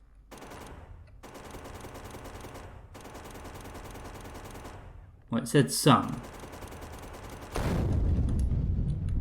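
Rapid bursts of gunfire in the game Factorio rattle in long automatic volleys, followed by a short sharp burst and a heavy blast, with a brief voice.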